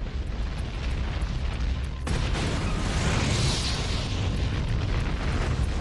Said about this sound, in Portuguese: A força da explosão é mais que suficiente para romper o tanque.